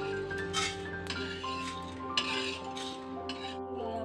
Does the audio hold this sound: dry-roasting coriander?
yes